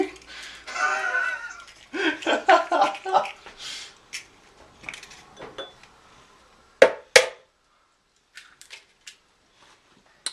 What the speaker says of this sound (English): crack your 3 eggs and put them in